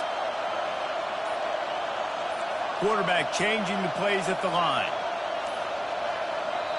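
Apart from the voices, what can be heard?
football stadium crowd roaring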